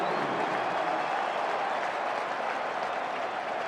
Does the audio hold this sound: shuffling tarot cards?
no